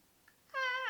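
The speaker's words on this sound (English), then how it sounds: "My cat is screaming outside the door." A cat outside a door lets out one loud, drawn-out yowl that starts abruptly after near silence.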